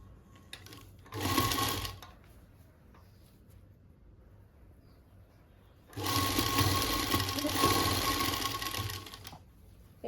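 Sewing machine running in two bursts, a short one then a longer steady whir, while stitching a seam on a chunni, with quiet pauses between and no talking.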